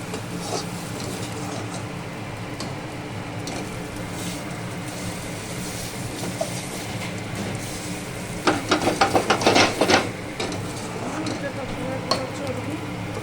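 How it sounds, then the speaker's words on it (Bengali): Whole garam masala and black cardamom crackle in hot oil, a steady close sizzle with a burst of sharper crackling and stirring clatter near the end; no talking. "একটু গোটা গরম মশলা, বড় এলাচ ফোড়ন দিয়েছি"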